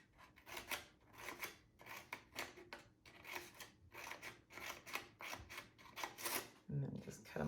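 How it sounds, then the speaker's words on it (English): Scissors snip repeatedly into yellow construction paper, producing a quick series of close, crisp cutting strokes with brief pauses between them. "I'm just going to cut some lines into it like this"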